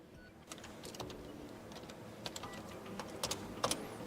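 Keys tapped on an HP OmniBook 5 Flip laptop keyboard as a code is entered, a sparse run of light clicks picking up in quick clusters toward the end, close and quiet with no voices.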